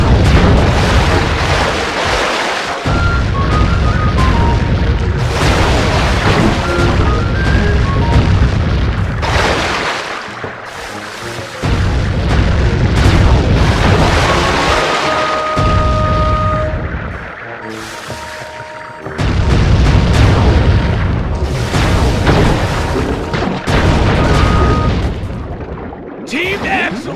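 Cannon shots and explosions in a Sly 3 video game boat battle: continuous loud booms and bursts over dense game sound and music, with occasional brief lulls.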